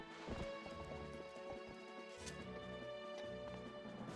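Faint hoofbeats of a video-game horse trot steadily at low volume over a constant background game score, with no voices present.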